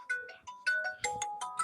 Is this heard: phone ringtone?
yes